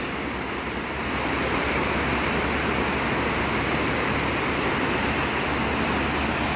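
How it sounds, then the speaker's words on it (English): Waterfall on the Potomac River at Harpers Ferry roars as a steady, dense rush of fast-moving water, loud and unbroken throughout with no voices. "Beautiful view of the falls here on the Potomac."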